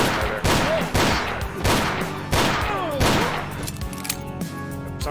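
Revolver gunfire in the shooter game Ashes 2063, five loud, booming shots spaced less than a second apart, each with a long echoing tail, close and dominant.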